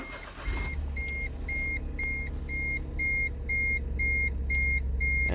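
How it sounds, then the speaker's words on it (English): A Smart Fortwo engine cranks and settles into a low, steady idle while a string of evenly spaced electronic beeps repeats over the engine noise. "Now we're going to start the engine."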